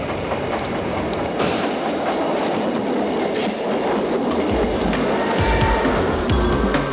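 A 1987 mass rapid transit train running on elevated tracks with a third power rail, a steady rumbling roll with rhythmic clickety-clack from the wheels that grows heavier toward the end.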